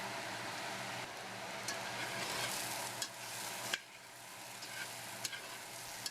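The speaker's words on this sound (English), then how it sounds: "Giving that a good stir to combine and cooking for 1 minute." Fried potatoes, onions and peppers seasoned with paprika sizzle steadily in a pan and are stirred, with a continuous close hiss and a few sharp scrapes and clicks. No one speaks.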